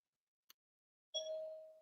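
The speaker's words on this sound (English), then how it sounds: "Who's ringing the doorbell?" A doorbell chimes once in a quiet room, a faint single ding that rings and slowly fades, preceded by a tiny click.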